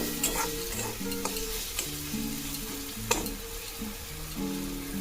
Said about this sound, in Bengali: ভালো করে মশলাগুলো মিশিয়ে নেব।